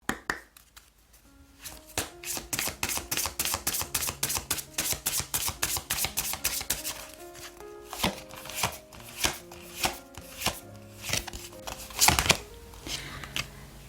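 Oracle cards shuffled for a tarot reading, a rapid run of crisp riffling clicks and card slaps that rise and fall in bursts, close and fairly loud, with quiet background music underneath.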